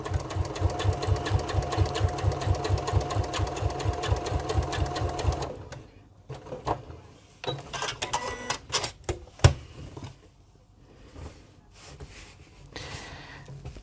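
A sewing machine top stitches a padded shoulder pad for a crossbody bag strap at stitch length 2.4, running in a steady fast rhythm for several seconds, then stopping for quieter handling clatter.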